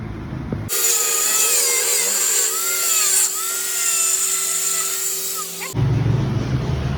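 A power tool trims the plastic base of a motorcycle seat, giving a loud, close, high whining buzz that holds for about five seconds with slight shifts in pitch as it cuts, surrounded by a lower workshop rumble before and after.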